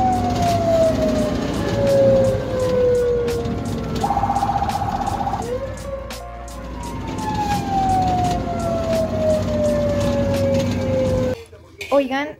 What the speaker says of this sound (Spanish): aquí ya me estaban preparando nuevamente para trasladarme a la ambulancia